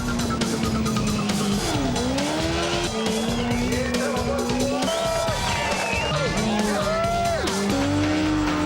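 Cars doing burnout stunts up and down a drag strip, engines revving hard with loud, sustained squealing and skidding tires, a crowd faintly audible beneath the continuous roar.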